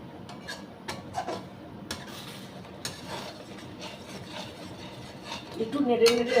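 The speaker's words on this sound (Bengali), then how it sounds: "ডাল তো একটু নেড়ে নেড়ে করতে হবে" Mung dal being stirred in a cooking pot for a moringa and mung dal dish: soft scraping and rubbing strokes with occasional clinks against the pot, fairly quiet and close, growing louder toward the end.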